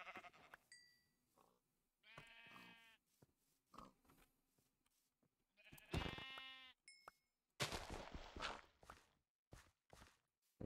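Sheep bleating in the video game Minecraft, several distinct wavering bleats spaced across the stretch, mixed with blocky footstep thuds and other game effects, close and clear with no talk.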